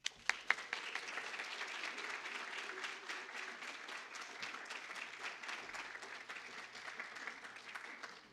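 An audience applauds steadily, a dense even clapping that holds at moderate level from start to finish with a few sharper claps at the beginning.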